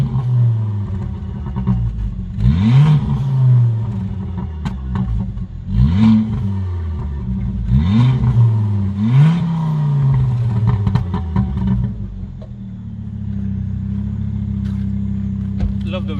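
A brand new car's engine idles and is revved up four times in a row, each rev rising in pitch before falling back, close and loud, settling into a steady idle afterward.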